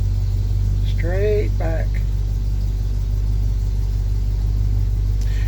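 A 1985 Chevy C10 pickup's engine idles with a steady low rumble while the truck eases backward, with a brief spoken instruction near the start.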